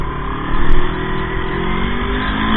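An Eligator 250cc dual-cylinder EFI DOHC motorcycle accelerates hard in second gear, its loud, steady engine roar rising briefly and then holding strong throughout.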